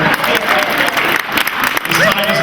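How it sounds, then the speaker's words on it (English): A live audience at a talk-show taping claps loudly and continuously, a dense roar of hands with a few cheers mixed in. "A little more of an applause for them."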